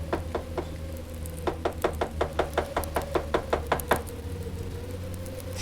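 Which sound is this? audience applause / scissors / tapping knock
tapping knock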